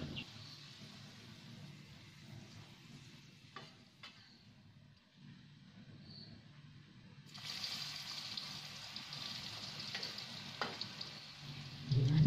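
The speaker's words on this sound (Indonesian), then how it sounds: "Nah, ini aku goreng dulu tempenya." Tempeh fries in a pan in a simple home kitchen, a soft, steady sizzle with occasional stirring scrapes and a quieter gap, growing louder toward the end.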